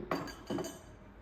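Two short glassy clinks, about half a second apart, as a lid is set back onto a blender jar in a kitchen, fairly close and clear with no talking.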